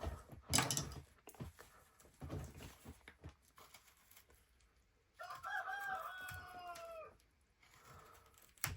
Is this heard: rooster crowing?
yes